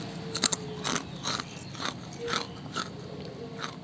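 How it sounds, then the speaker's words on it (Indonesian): Crunchy fried breadfruit butter snack being bitten and chewed up close, a series of sharp, crisp crunches at an irregular rhythm, each with a brittle crackle. "ini dia hasilnya, super renyah, kriuk, enak, sama sekali nggak keras"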